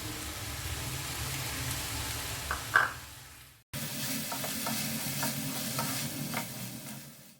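Chicken fried rice with chopped cabbage and capsicum is stir-fried in a hot pan: a steady close sizzle with a brief break, then spatula scrapes and tosses over continued frying.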